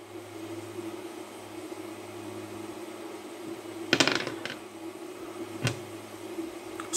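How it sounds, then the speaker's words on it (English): Dice rattle and clatter across a tabletop during an Army Men tabletop wargame, a short burst of clicks near the middle followed by a single sharp tap, fairly close over a quiet room hum. "Especially if you keep winning dice rolls like that."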